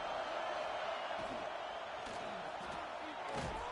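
A college football stadium crowd makes noise before a red zone defensive stand, a broad continuous roar held at an even level from start to finish.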